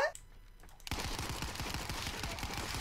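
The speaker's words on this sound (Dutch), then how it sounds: "Er wordt geschoten." Rapid automatic assault rifle fire in a shooter video game, a fast, even stream of loud shots starting abruptly after a brief quieter moment with a short tone at the start, continuing without pause.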